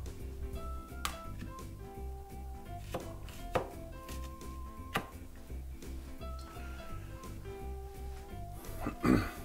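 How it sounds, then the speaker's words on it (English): A knife chops vegetables for shakshuka on a cutting board: a steady run of crisp, close, evenly paced chops over faint background music, with a brief louder clatter at the end. "Chop those up"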